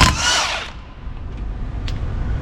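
A 3.5 inch battery impact gun works on a truck during a rear disc, starter and axle job, with a loud, harsh burst under a second long, then a steady, noisy workshop background.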